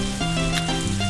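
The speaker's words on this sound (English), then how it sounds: "It is raining, which is kind of good, kind of bad." Rain falls in the farming video game Harvest Moon A Wonderful Life, a steady hiss under a sustained musical background.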